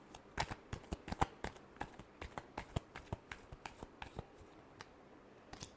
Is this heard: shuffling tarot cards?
yes